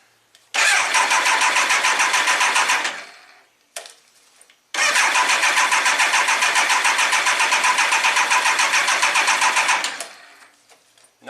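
Starter on a 1999 Triumph Trophy 1200 motorcycle cranking the engine in two loud, close bursts, a short one then a longer one, with a steady rapid chugging rhythm but no catch, a brief click between them.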